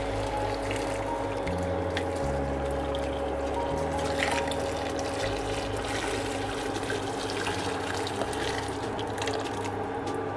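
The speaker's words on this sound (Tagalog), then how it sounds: "Ito na yung mainit na tubig mga kabusing." Hot water is poured over pork leg being prepared for crispy pata, a continuous rushing pour with trickling and dripping texture, steady and fairly loud for about ten seconds.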